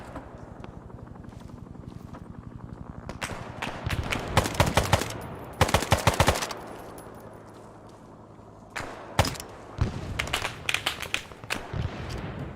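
Gunfire in the Arma military game: rapid bursts of automatic fire in several clusters, loud and close, with single shots in between over a steady rotor-like drone.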